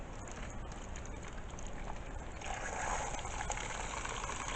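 Water poured steadily into a container for homemade hummingbird nectar, a continuous close gushing fill that grows slightly fuller partway through, with no one talking.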